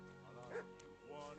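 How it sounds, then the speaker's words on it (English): Dog barking and yipping in the video game Kingdom Come Deliverance II, a few short excited barks over a steady tonal game ambience, with a voice speaking over them. "What's that dog making such a fuss about?"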